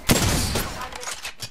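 Gunfire in a video game: a short, sharp volley of shots up close, trailing into a faint scattered echo.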